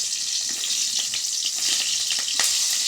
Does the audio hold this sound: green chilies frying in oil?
yes